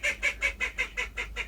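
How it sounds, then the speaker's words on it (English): A small female call duck quacking loudly, eight rapid, evenly spaced honking quacks close to the microphone, with no talking. "That's Pippa, my female call duck. She's very little, but creates massive sounds, as you can tell."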